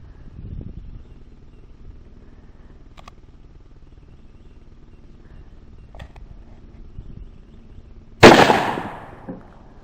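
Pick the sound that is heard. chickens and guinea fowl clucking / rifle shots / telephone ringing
rifle shots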